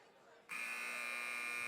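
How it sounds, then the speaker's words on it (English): A basketball game-end buzzer at a high school women's varsity game between Platteville and New Glarus sounds loud and steady after a brief moment of quiet crowd murmur, holding a single sustained electronic tone to the end. "And there's the buzzer."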